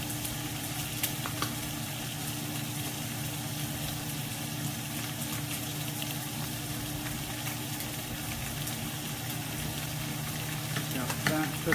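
Catfish fries in a pan with a steady, dense sizzle that runs throughout at moderate volume alongside a constant low hum, with no talking.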